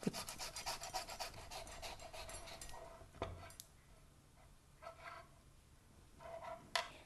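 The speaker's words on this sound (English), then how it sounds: "you use a fine steel grater like this, and you just grate it" Peeled ginger is rubbed against a fine steel grater in rapid, rasping strokes that are close but quiet, then slow to a few scattered scrapes with a clunk partway through.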